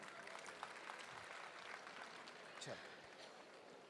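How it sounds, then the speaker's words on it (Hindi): An audience at a 73rd birthday celebration with a singer breaks into steady clapping, a faint, even wash of applause that holds for a few seconds without a clear peak. "एक बार जोरदार तालियां।"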